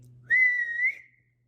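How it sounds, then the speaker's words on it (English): A single sustained human whistle, clear and fairly close, lasting under a second, directed at a restaurant server during dinner. "Spruce then whistled at the server so she would bring ranch dressing."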